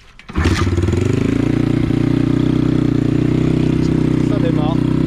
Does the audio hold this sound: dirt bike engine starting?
yes